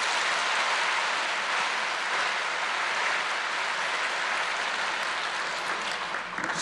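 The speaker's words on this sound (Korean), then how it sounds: "우리 박수를 한번 더 드리십시오." A church congregation breaks into sustained, dense applause after a hymn, a full crowd clapping steadily and loudly for several seconds before it starts to thin out at the end.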